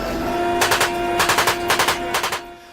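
Rapid bursts of automatic gunfire, three short volleys of sharp cracks in quick rhythm, loud and close over a low background hum.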